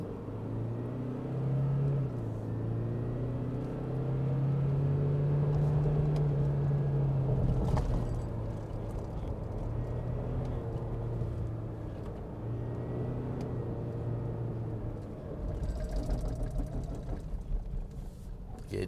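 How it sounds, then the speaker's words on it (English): Toyota Fortuner 2021 heading uphill on a mountain road, engine note shifting as the driver downshifts with the paddle shifters, a low steady rumble with a brief rise and drop mid-way, no talk. "I'm using the pedal shifters to help me a little bit to shift down for the"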